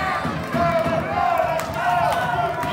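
A wrestling crowd at a live pro wrestling event roars and cheers steadily throughout, a dense, sustained wash of voices with swelling peaks and no individual words standing out.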